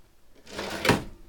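A kitchen drawer in the rear kitchen of a 2004 Mountaineer 297 RKS RV slides open or shut in one short sweeping rumble ending in a soft thud, close by with no talking.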